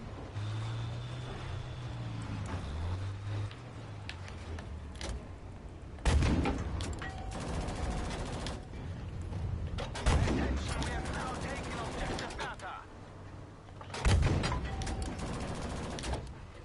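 Gunfire in the video game Battlefield V comes in heavy, punchy bursts at roughly two-second intervals over a constant battlefield din, with game voices and engine-like drone underneath.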